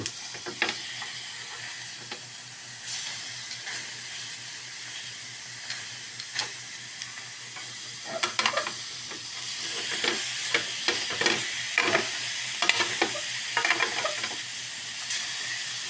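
A steak searing in a pan gives a steady frying hiss that swells in loud bursts of crackle as the meat is flipped, with occasional clicks and scrapes from the utensil.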